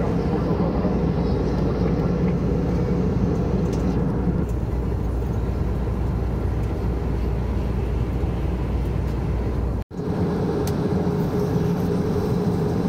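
Steady, loud cabin roar inside an Airbus A321-200 airliner of Ural Airlines during descent toward Sochi, a constant broadband engine and airflow drone that holds throughout, broken once by a brief dropout near the end.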